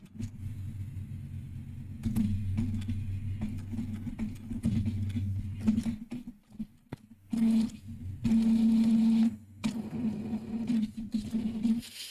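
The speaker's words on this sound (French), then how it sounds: "J'allume l'imprimante." An inkjet printer powers on after new ink cartridges are fitted, whirring and clicking as its carriage moves, with a steady mechanical hum and short bursts of higher motor whine.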